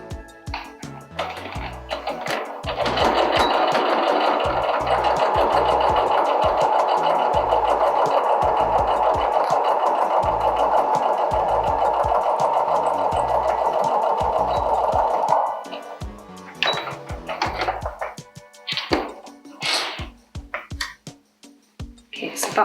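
A sewing machine stitches near the fabric edge with dark thread in one long steady run of about twelve seconds, close and loud, followed by a few short bursts, with a voice talking before and after.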